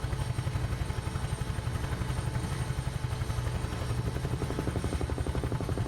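UH-1H Huey helicopter engine in Microsoft Flight Simulator, a steady close rotor chop with rapid rhythmic beating over a continuous turbine drone, loud and unbroken throughout.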